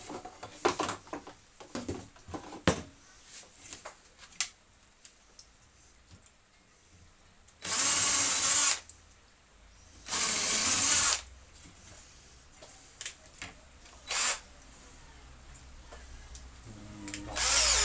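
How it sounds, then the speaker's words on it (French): A power drill bores two pilot holes into a scrap backing board, with two loud sustained whirring bursts of about a second each, set among scattered clicks and handling knocks in a quiet room. "Je fais juste 2 avant-trous là."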